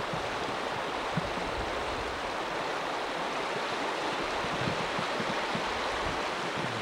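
Floodwater rushing out of a pond's main channel along a flooding river in 1992, a steady broadband roar with a constant churning wash and no voices.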